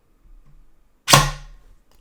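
A 3D-printed toy rocket launched by squeezing its air chamber fires with one sharp, close pop and a short whoosh, preceded by faint handling noise.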